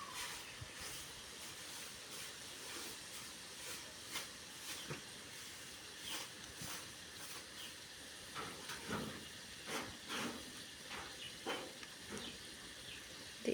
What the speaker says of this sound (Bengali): এদিকে পাশের চুলা ভাত রান্না হচ্ছে।